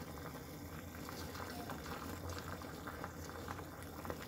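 Water with green tea leaves boiling steadily in a pot, a continuous close bubbling and simmering hiss with no talking.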